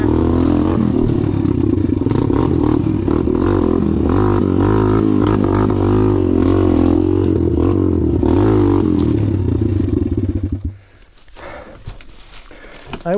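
A motorcycle engine is revved hard and held at a straining drone for about ten seconds while the bike is pushed and dragged up a rough slope, with scraping and clatter under spoken talk before it cuts out.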